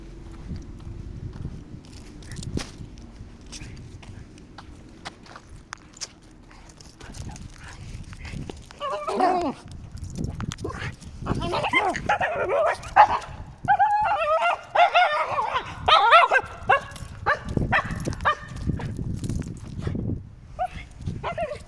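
A dog barks and yips repeatedly at close range, the barks growing busier and more excited, with some background noise between bursts.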